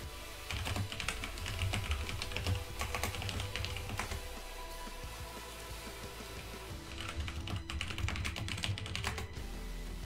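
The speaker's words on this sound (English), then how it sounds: "I have a mechanical keyboard. I have a Razer Black Widow Stealth, is what they say, but it's not very stealth because it makes a lot of noise." Typing on a Razer BlackWidow Stealth mechanical keyboard, rapid clattering keystrokes in bursts with a short pause midway, loud and close over a low background hum, no speech.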